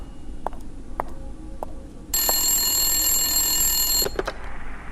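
A telephone ringing with an incoming call, a bright electronic ring held for about two seconds between quieter clicks and taps, alone without talking.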